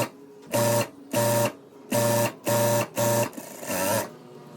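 A sewing machine stitches the shoulder seam of a frock, running in six loud, separate bursts of fast mechanical whirring with short pauses between them, close up with no talking.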